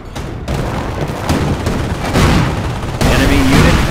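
Gunfire and explosions in the World War II strategy game Company of Heroes during a Normandy invasion battle, a dense continuous barrage of loud shots and booms with bursts intensifying toward the end.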